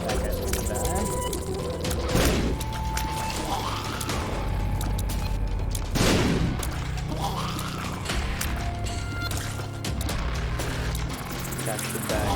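Enemy bomb flies blow up in The Binding of Isaac, a couple of sharp crashing bursts standing out over a busy bed of game sound effects and music, with a voice talking throughout.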